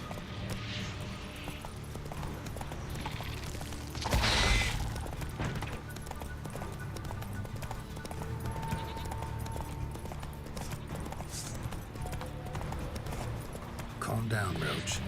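Hooves of Roach, the horse in The Witcher 3 video game, clip-clopping steadily, with a louder crash-like burst partway through and game ambience underneath.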